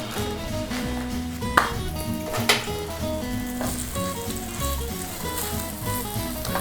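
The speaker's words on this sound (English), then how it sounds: "There's that sizzle." Loud continuous sizzle of beef frying in a hot wok, with a few metallic scrapes and taps of stirring over a low background hum of a kitchen fan.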